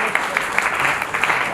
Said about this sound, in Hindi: आप सबकी तालियों में थोड़ी कमी है, इसको थोड़ा बढ़ा देंगे तो थोड़ा और आनंद आ जाएगा।